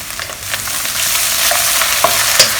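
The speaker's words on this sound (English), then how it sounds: "Give it a good stir, make sure they are all mixed up together well." Mushrooms stirred in a hot pan with oyster sauce and sugar for Chinese shredded chicken hor fun, a continuous sizzle with scraping stir strokes and occasional clinks, close and loud with no talking.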